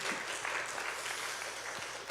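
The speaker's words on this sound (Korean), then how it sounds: "우리 다시 한번 박수 한번 쳐주세요." Church congregation applauding at a finance seminar, a brief burst of dense clapping held steady at moderate volume.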